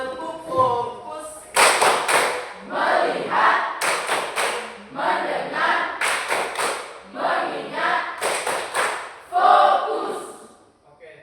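A class stands and performs a rhythmic focus clap together, with bursts of sharp unison claps alternating with chanted words in a repeating pattern, loud and close.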